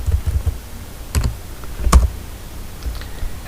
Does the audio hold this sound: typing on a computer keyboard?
yes